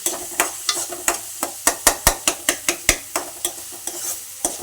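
Onions fry in a pan while a spatula stirs them in about a dozen sharp, regular scraping strokes over a light background sizzle, close and fairly loud.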